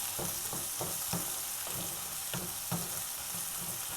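Tomatoes and onions sauté for Tamil chicken thokku, a steady close sizzle punctuated by rhythmic stirring scrapes about every half second, with no speech.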